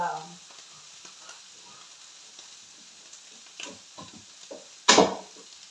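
Salmon frying in a pan with garlic and parsley gives a steady soft sizzle, with occasional utensil scrapes and a louder clatter near the end, close up and without speech.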